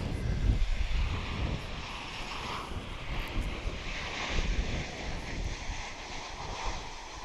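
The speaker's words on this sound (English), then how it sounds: "We've got American Airlines Flight 345 coming in from San Francisco. It's a Boeing 737-800, and here it comes" An American Airlines Boeing 737-800 from San Francisco lands at DFW International Airport, its jet engines a broad, continuous roar with deep rumble and wind buffeting throughout, heard from outdoors at a steady moderate level.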